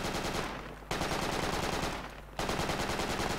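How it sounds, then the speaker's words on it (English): Rapid automatic gunfire in the video game Project Reality, loud sustained bursts broken by two short pauses, with no voices. "Who's shooting?"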